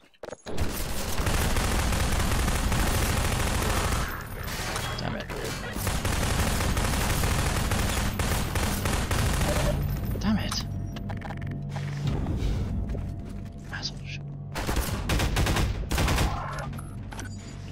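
Sustained bursts of gunfire from the video game Half-Life 2, loud and dense for most of the stretch with brief pauses, with someone talking over the shooting.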